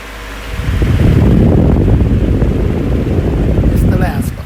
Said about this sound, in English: This fan has a really awesome startup sound to it and a whine.